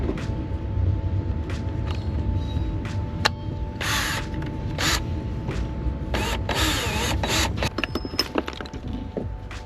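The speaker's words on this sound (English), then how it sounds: "There is in fact enough room to drill" A power drill working inside a van being built for off-road use, with whirring bursts, clattering handling noise and intermittent grinding spread across the clip, close and fairly loud throughout.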